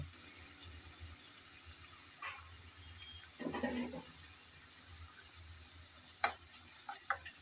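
Chopped onions fry in a pan of hot oil left over from frying koi fish, giving a quiet, steady sizzle with occasional soft clinks and scrapes of stirring.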